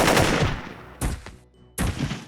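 A gun fires in the video game Jagged Alliance 2: a loud opening burst of rapid shots, then two more sharp bursts, each ending in a short decaying tail.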